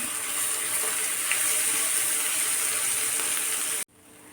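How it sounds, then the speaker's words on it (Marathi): Gram flour mixture fries in oil in a pan, giving a steady, close hiss of sizzling that runs unbroken for several seconds before cutting off abruptly near the end. "एक चमच बेसन पीठ घालायचं आपल्याला आणि छान परतून घ्यायचं आपल्याला तेल सुटेपर्यंत"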